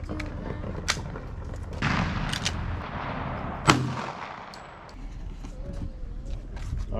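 Gunshots from a .38 revolver at an outdoor shooting range: a few sharp, loud reports spaced several seconds apart, the strongest one near the middle, with brief voices nearby.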